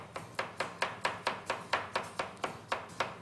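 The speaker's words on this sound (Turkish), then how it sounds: "Şöyle küçük küçük doğrayacağız." Carrots are chopped into small pieces with a knife, a brisk, even run of about fourteen crisp taps on a cutting board, close and quiet, with no voices.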